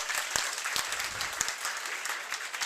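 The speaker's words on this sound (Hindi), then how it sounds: "मैं मैम का हार्दिक स्वागत करता हूं एक बार तालियों के साथ।" Applause from an audience welcoming a guest teacher at a coaching centre event in Haryana, a steady patter of many hands clapping at moderate distance, fairly soft, with a few sharper claps standing out.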